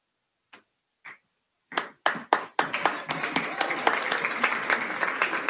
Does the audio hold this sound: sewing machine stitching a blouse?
no